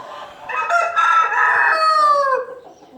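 A rooster crows once in a chicken coop, one loud, close, drawn-out call lasting about two seconds, heard alone with faint background noise.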